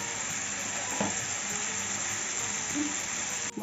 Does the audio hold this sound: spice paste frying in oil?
yes